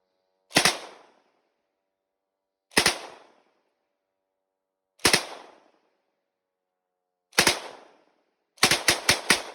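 A mounted machine gun firing at an enemy drone, loud close single shots spaced about two seconds apart, then a rapid burst of four or five shots at the end, each with a short echoing tail in the open air.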